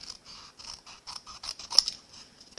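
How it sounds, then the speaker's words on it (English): Paper snips trim cardstock for a stamped greeting card, a string of quick, close, crisp cuts in an uneven rhythm, with no voices. "Then I'm just going to use those paper snips again"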